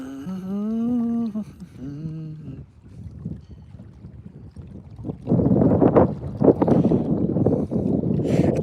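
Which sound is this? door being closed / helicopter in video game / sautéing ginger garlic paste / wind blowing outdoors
wind blowing outdoors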